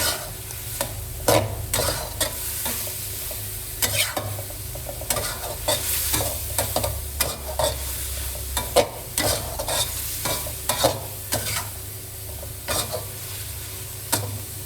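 Pork belly stir-fried in roasted chili paste with Thai sweet basil sizzles steadily in the pan while a utensil scrapes and tosses it in repeated sharp strokes.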